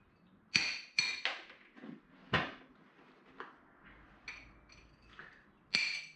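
Sharp metallic hammer strikes on a motorbike exhaust being cut and shortened, about nine irregular blows with ringing tails, some hard and some lighter, close by with no talk.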